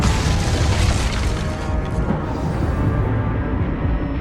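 A loud, booming Confringo spell explosion from Hogwarts Legacy bursts in a dense, sustained roar that slowly thins out, with no voices.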